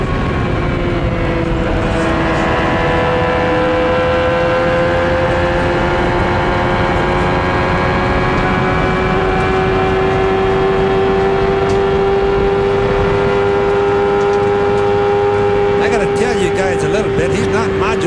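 A 1993 CART IndyCar held at full throttle around Michigan International Speedway during the Michigan 500, a loud sustained high-pitched engine whine that slowly rises in pitch, with a commentator talking over it.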